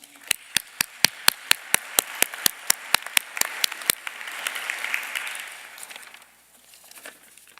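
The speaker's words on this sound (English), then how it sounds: "Let's give her another round of applause." Applause at a university commencement ceremony opens with a string of sharp, evenly spaced claps, then fades into a softer wash of crowd clapping and murmur.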